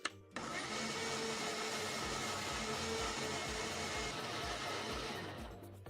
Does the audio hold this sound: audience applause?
no